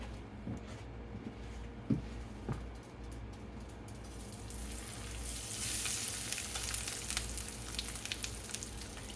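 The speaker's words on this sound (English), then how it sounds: "We're gonna put the fish in the skillet." Fish sizzling and frying in a hot skillet for a fish fry, a steady broad hiss that swells louder partway through, with a few clinks of utensils near the start and no talking.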